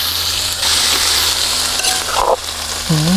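Ingredients stir-fried in a pan for a Thai rustic khanom jeen curry, with fish-boiling stock added, give a steady close sizzle and scraping stir, with a brief tonal squeak near the end and no talk.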